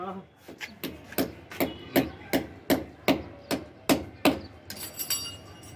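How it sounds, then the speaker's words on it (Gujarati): A hammer strikes during fitting work on a water tank overflow pipe, about a dozen sharp, evenly spaced metallic knocks in a steady rhythm that close by, then trail into lighter taps. "ઋષિ હથોડી દેજે ભાવેશભાઈ."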